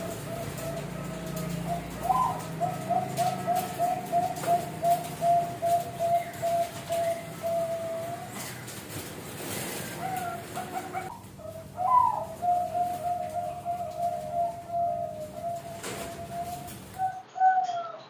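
Zebra doves (perkutut) in breeding cages give rhythmic repeated cooing phrases, two long bouts of evenly spaced notes, moderately close, with a faint voice in the background.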